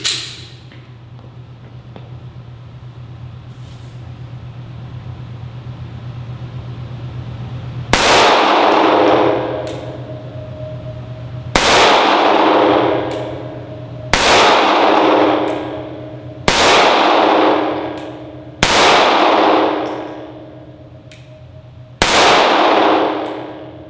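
Six sharp 9mm pistol shots from a Springfield XDe ring out against steel targets, each crack followed by a bright metallic clang, spaced a few seconds apart over a steady low hum, with no talking.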